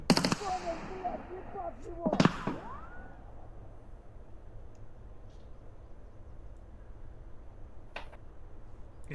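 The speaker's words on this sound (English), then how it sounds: "And good God, some very big gun sounds." Gunfire rings out in Escape from Tarkov: two sharp distant shots near the start and a fainter one later, over low steady game ambience.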